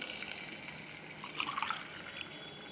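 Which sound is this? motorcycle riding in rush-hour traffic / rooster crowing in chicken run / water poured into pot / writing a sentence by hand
water poured into pot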